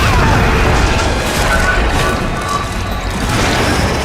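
A heavy, rumbling grenade blast from Resident Evil 5, loud and close, with a crunching crash that rolls on for several seconds without a clear break.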